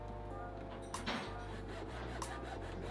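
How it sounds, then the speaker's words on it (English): Hacksaw cutting through a jeep body mount, a few rough rasping strokes close by with a steady low hum behind. "we're gonna use this hacksaw. Hopefully, it's gonna work, and we're just gonna hack through this body mount to make two halves"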